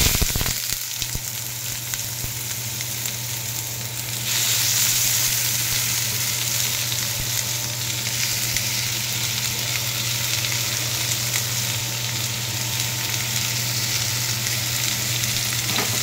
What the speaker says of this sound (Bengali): কড়াইয়ে তেল দিয়ে আমি পেঁয়াজ কুচি আর টমেটো কুচি দিয়ে দিচ্ছি